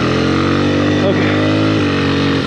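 A Honda XR100R dirt bike engine drones loud and close while the bike churns through deep snow, holding a steady buzzing rev the whole time with no pauses.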